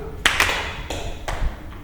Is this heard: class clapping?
yes